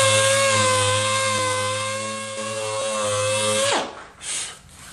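A power sander works a wood surface for a dye and lacquer finish with a steady, high-pitched motor whine for nearly four seconds, then spins down abruptly, leaving a few faint handling scuffs.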